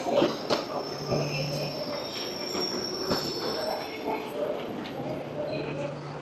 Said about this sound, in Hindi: ट्रेन तो आ गई है यहाँ पे नीचे।